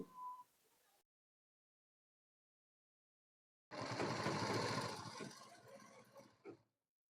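Sewing machine running a single line of stitching along a gents' shirt placket, a steady whirring burst of about three seconds that slows near the end, preceded by a short quiet noise.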